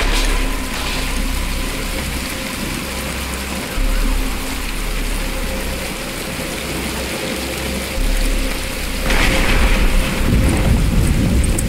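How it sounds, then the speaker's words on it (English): Rain pours steadily in Batman Arkham Asylum, a loud continuous hiss with low thunder rumbling beneath it and a stronger surge near the end. "But it's starting to rain."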